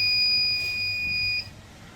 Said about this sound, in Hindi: ये 23 वोल्ट पे ही ये बीप की आवाज़ देने लग जाता है